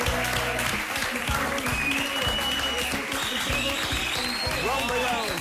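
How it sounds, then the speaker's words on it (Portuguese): Studio audience applause on a Portuguese TV show greeting three presenters, steady loud clapping under a rhythmic music bed with some voices mixed in. "Uma salva de palmas!"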